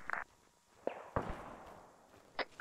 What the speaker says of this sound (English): I got shot from the west.